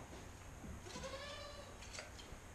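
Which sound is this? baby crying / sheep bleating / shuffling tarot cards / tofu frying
sheep bleating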